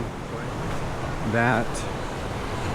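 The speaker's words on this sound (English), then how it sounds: "So this is the river," Steady broadband rush of a river flowing past a campsite in Sinks Canyon near Lander, continuous and fairly close, with someone briefly talking over it.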